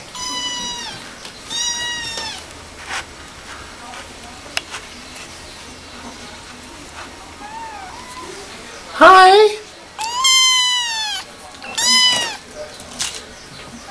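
High, thin meows from kittens just arrived from the pound repeat in short bursts, some loud and close, while a person briefly speaks a greeting among them, at a cat shelter.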